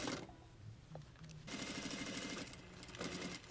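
A sewing machine stitches a hem seam along the edge of a fabric face mask, its rapid needle chatter starting after a brief pause and running steadily and close.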